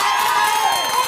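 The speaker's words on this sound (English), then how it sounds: "there's some pretty happy Australians in the crowd" Happy Australian fans in a crowd at a Trans-Tasman Test cricket match cheering in a brief, steady wash of massed voices and whoops.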